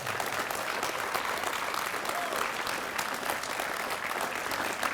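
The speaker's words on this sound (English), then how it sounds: "Can we please give them a round of applause?" A crowd at a riverfront park grand opening in Miamisburg applauds the Parks and Recreation team, a steady, dense burst of clapping throughout.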